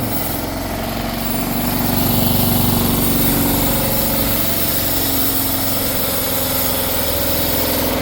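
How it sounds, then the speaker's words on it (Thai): A generator engine on a farm ATV runs steadily at a close, even drone with a constant mechanical hum and a slight swell early on, with no talking over it. "ตอนนี้สตาร์ทใช้งานอยู่นะครับเป็นเครื่องปั่นไฟนะครับ"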